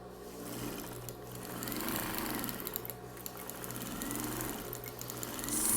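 Sewing machine stitching a seam down the side of a bathroom rug set, a faint steady hum with soft mechanical rattling throughout, fairly quiet and heard alone.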